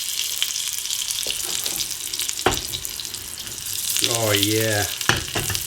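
Butter frying in a pan for honey beer pancakes, a steady crackling sizzle close by, with a short burst of speech near the end.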